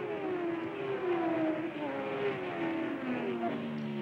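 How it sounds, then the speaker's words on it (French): Period Formula One cars, a Lotus, Brabham, BRM and Ferrari, run downhill on a racing circuit, their engines a continuous droning whine with pitch sliding up and down as they pass, heard under a narrator's voice. "Lotus, Brabham, BRM et Ferrari dans la descente qui mène vers le bas du circuit"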